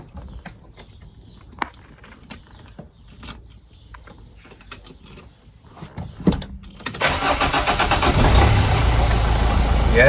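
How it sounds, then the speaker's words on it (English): A Renault Kangoo van engine cranks and fires up after its battery was disconnected, then settles into a loud, steady idle that fills the second half, following quieter clicks and movement near the start. "does the car fire up again with the battery once being disconnected and eventual error codes?"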